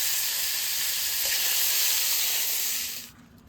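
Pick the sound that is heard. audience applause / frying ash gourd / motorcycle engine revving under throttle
frying ash gourd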